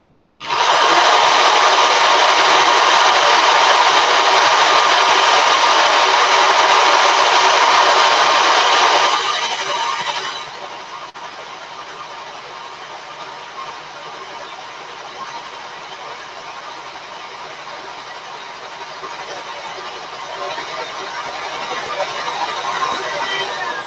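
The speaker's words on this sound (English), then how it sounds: "And now my drill's very fast." A power drill running at high speed, a loud steady whine that drops to a quieter hum about halfway through, then keeps going.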